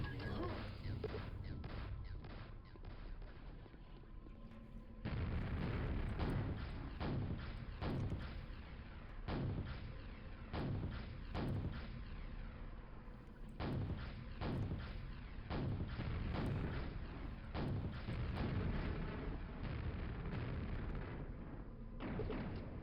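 Repeated loud blasts and thuds from a rocket launcher fired at a boss in Quake, a burst every second or so over a steady low game rumble, growing denser after the first few seconds.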